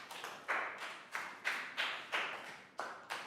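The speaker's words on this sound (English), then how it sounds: "Big round of applause for Dan" A small group of Year 3 pupils in a classroom claps for a classmate after a maths shapes review, a quiet patter of a few hands in uneven bursts rising and falling over a few seconds, with no talking.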